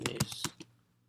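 Computer keyboard typing while writing JavaScript code, a short close burst of about five quick keystrokes followed by quiet.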